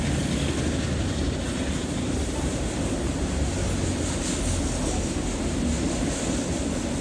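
A train rolls past steadily through Shopton rail yard with a continuous rumbling roar and faint clattering of wheels on track, fairly close, no voices.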